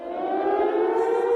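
A civil-defense-style siren sound effect sounds for a correct answer on a radio quiz, one steady, loud, wailing tone that holds alone for over a second.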